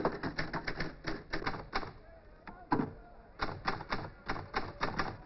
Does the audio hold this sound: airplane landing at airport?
no